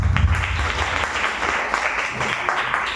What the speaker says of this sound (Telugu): అందరూ చప్పట్లు కొడతారా?